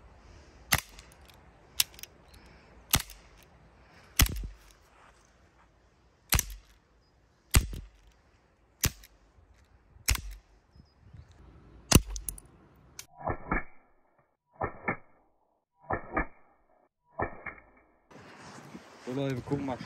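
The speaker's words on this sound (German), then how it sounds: "Wir schießen die ersten drei auf die linke, die nächsten auf die rechte." Gas-powered gun shots fired at computer keyboards: about ten sharp, loud single cracks at irregular intervals, then a run of shorter clicking bursts, with quiet pauses between shots.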